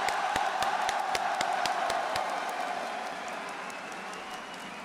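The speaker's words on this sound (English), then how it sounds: "Un tonnerre d'acclamation pour vos deuxièmes finalistes, troisième fois d'affilée, T1 et Gumayushi." Crowd cheering and applauding for the finalists at an esports match, a T1 versus Gen.G League of Legends semifinal, with dense, sustained roar and clapping that gradually fades toward the end.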